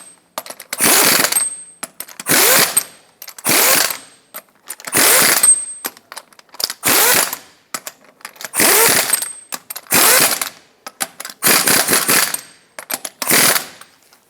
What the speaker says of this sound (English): Put on all 8 of your lug nuts, bottom them out in a cross pattern, and also in a cross pattern, torque them to 130 foot-pounds.